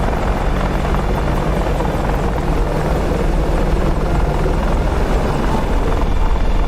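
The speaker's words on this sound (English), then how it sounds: "And that helicopter is very loud." Loud, constant helicopter rotor noise from a UH-60L or AH-64D in DCS World 2.8, a dense steady roar with a fast rhythmic thump, close and unbroken.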